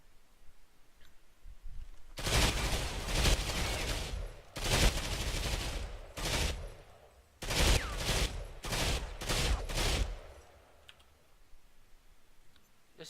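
A rifle with a muzzle brake and IR designator firing in Ghost Recon Online: dense bursts of loud automatic gunfire, a long stretch followed by shorter rapid bursts, with clicking between them.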